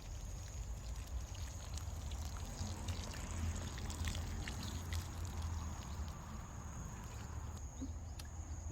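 Water sprayed along garden seed rows makes a faint, steady hiss and patter of light spray with soft trickling, continuous and somewhat distant.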